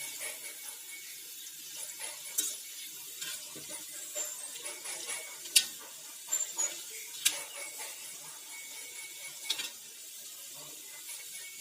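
Potato pakoda frying in hot oil, a steady soft sizzle running throughout with scattered sharp crackles and pops, fairly quiet and heard alone without talk.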